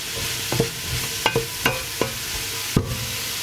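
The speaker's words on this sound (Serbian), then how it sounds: "Promešat ću i pržiti 10 minuta." Vegetables for a vegetable soup with chickpeas being stirred and fried in a pan, giving a steady close sizzle broken by several sharp spoon-scraping clatters at irregular intervals, with no talk.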